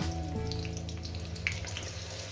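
Green chillies frying in oil in a pan, a faint, light crackle and spatter with an occasional sharp pop, under a low steady hum.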